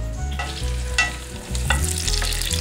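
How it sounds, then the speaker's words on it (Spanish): Rice frying in a pan and being stirred before chicken is added for arroz con pollo: a steady close sizzle with repeated scraping stir strokes, no voices. "vamos a freír un poco el arroz antes de agregarle el pollo"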